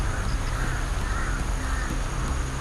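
A large crowd of crows keeps up steady cawing. The calls blend into a dense, continuous racket with no talking.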